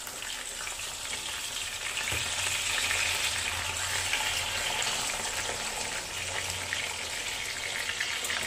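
Fish shallow-frying in a generous amount of oil over a low flame for a Kerala fish biryani, a steady soft sizzle and crackle that holds evenly throughout with no voices over it.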